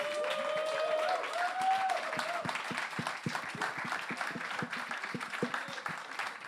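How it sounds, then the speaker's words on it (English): A crowd gives a round of applause for panelists at a talk on independent music, fairly quiet and distant clapping that runs throughout, with a tonal sound and some voices mixed in early on. "Can I get a round of applause for our panelists, please?"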